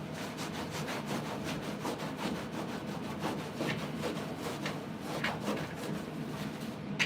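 A cloth wipes calcium, lime and rust remover off a surface on a 1969 camper, making close, steady, rhythmic rubbing strokes with no talking.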